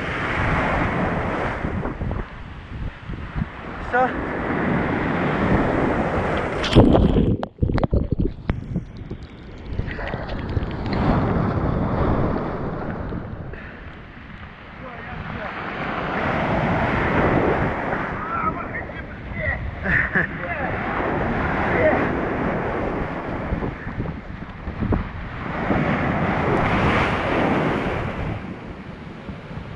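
Stormy sea in Crimea: heavy waves crash and surge while strong wind buffets the microphone, a loud, rolling roar that rises and falls throughout, with a person speaking briefly over it.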